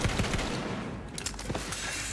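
Rapid automatic gunfire from a weapon in Borderlands 3, a dense, continuous burst of loud shots that fills the whole stretch without letting up.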